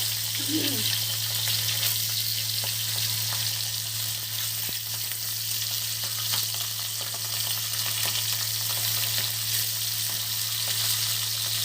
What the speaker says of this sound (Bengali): দিদি মাছ ভাজছে, মোটামুটি মাছটা উল্টে দিচ্ছে।